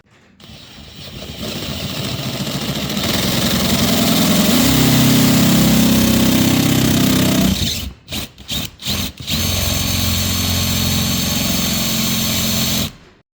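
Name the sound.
drilling a hole through campervan for a cable entry gland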